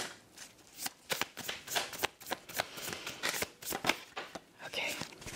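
Tarot cards being shuffled and drawn: a steady run of crisp riffling, slapping and flicking card noises, close and fairly loud, with a person talking softly alongside.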